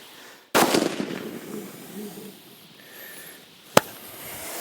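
A single sharp hunting rifle shot rings out on the South African savannah, loud and close with a decaying echo, followed by faint ambient noise and a brief click near the end.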